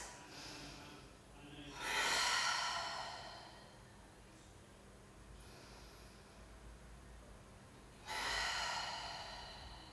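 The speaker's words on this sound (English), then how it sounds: "Big breaths." Slow, deep breaths during a floor exercise workout, two long loud exhales a few seconds apart, close to the microphone with a quiet background between them.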